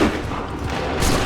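A volley of musket fire in Assassin's Creed III Remastered: a dense, loud burst of overlapping gunshots that fills the whole moment without pause.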